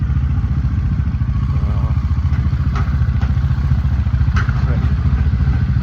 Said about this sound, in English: getting bikes warmed up